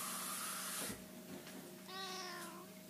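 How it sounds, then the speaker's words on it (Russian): A house cat meows once in a short, clear rising-falling cry, close by, over a steady low hum in a quiet kitchen. "Ну, скажи мяу."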